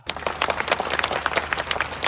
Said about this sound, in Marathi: यांच्यासाठी पुन्हा एकदा जोरदार टाळ्या